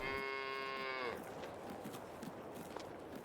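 A single long, loud cow moo on a livestock farm in a survival farming game, heard up close for about a second, then a low ambient outdoor hum with no talk.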